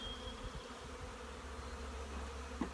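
Honey bees buzz around a hive frame being set up for a queen castle, a faint continuous drone close by with no voices.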